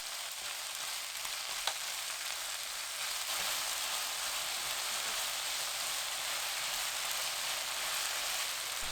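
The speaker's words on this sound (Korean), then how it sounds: "양파, 피망, 청양고추, 홍고추, 고추기름 3큰술 넣고 센 불로 1분 볶습니다." Onion, bell pepper, green and red chili peppers and chili oil stir-fry over high heat in a pan, producing a steady, dense sizzle with a few faint clicks of stirring and no voices.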